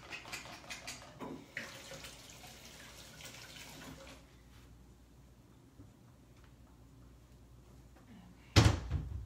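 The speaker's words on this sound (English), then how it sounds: "I'm going to go ahead and wash my hands real quickly." Hands are washed under a running tap, a steady rush of water that softens partway through, followed near the end by a sudden loud knock or clatter.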